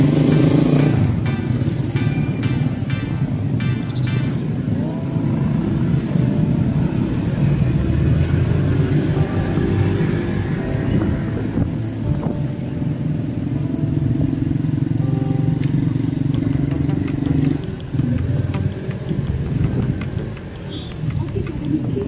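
A motorcycle rides along at night, its engine droning steadily and loud throughout with road noise, and faint voices talk beneath it.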